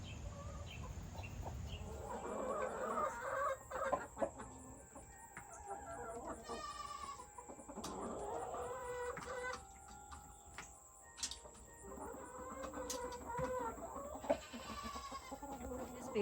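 Free-range backyard hens, including Easter egger chickens, cluck and murmur in uneven bursts over a faint high-pitched background whine. A goat-like bleat and a rooster's crow may also break in briefly, and there is no clear talking.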